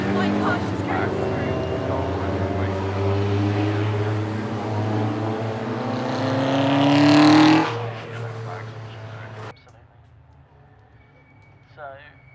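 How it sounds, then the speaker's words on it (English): Racing cars on a circuit during an August bank holiday race day roar loudly past, one engine's pitch climbing sharply in a close pass before the noise cuts away to near quiet. "So, last car is just getting through Bobby's."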